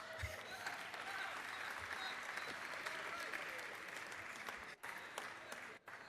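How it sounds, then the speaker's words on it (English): Sustained applause from an audience in a state House legislative chamber, dense and even clapping that carries on for several seconds with brief dips near the end. "give him a round of applause"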